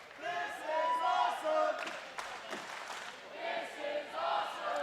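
A wrestling crowd at a Wrestling Revolver event chants and roars in rising and falling waves, loud and close, with a brief dip in the middle before the cheering swells again.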